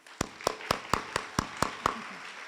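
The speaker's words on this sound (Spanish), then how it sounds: "Aplausos, por favor" At a gathering of Peruvian women writers, a few slow, evenly spaced hand claps ring out close by, about eight in a row before fading.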